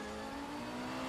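A car engine in the RaceRoom racing video game drones steadily at a constant pitch, quiet and brief, without variation in speed.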